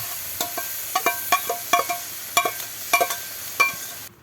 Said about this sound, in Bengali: এবার সিদ্ধ করে রাখা শাক, কাঁঠালের বিচি এগুলো সব দিয়ে দিচ্ছে। এগুলো একটু ভাজি ভাজি করে নেবে।